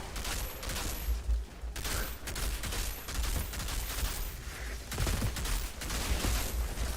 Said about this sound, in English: I'm just shooting a dead body right there